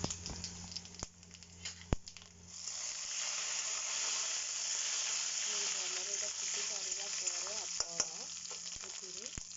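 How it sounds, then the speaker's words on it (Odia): Dried red chillies and whole spices fry in hot oil, a steady close sizzle with scattered crackles and a few sharp spoon taps, while a faint voice murmurs in the background. "ଏଇଠି ଦେଖନ୍ତୁ ତେଲ ଗରମ ହେଇଯାଇଛି। ଏଥିରେ ମୁଁ ଶୁଖିଲା ଲଙ୍କା କିଛି ଆଉ ଫୁଟଣକୁ ଦେଇଦେଲି।"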